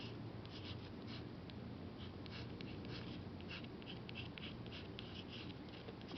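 A pen scratching across a handmade Mother's Day card, close and quiet, steady writing strokes running throughout with no voices.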